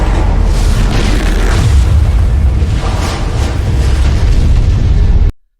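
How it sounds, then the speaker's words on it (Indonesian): Monsters blowing themselves up as living missiles in an anime fight: a loud, sustained, deep rumbling blast that roars on for several seconds before cutting off abruptly, with no speech. "Kaiju nomor 10 menyerang dengan memerintahkan monster Honju sebagai rudal hidup, di mana Yoju itu meledakkan diri mereka"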